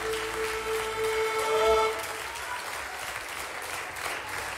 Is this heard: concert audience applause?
yes